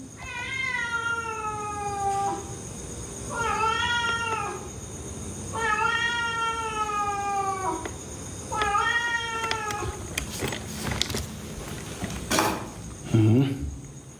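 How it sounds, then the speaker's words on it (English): A stray cat meows in four drawn-out, wavering calls spaced a couple of seconds apart, close and clear, followed by scattered knocks and rustling. "Was it just a stray cat?"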